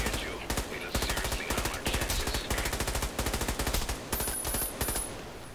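Rapid automatic gunfire from Batman: Arkham Origins multiplayer, long rhythmic bursts of loud close shots with brief gaps, and a thin high tone entering near the end.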